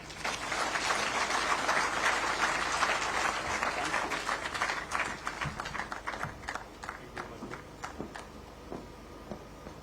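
Audience at an evening celebration applauds a speaker, a loud dense round of clapping that gradually thins and fades toward the end.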